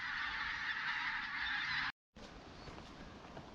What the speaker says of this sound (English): these geese are another level of noisy